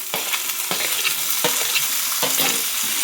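Chopped tomatoes hit hot oil with fried onion and green chilli, a loud dense sizzle broken by four sharp spatula scrapes at even intervals, with no voices.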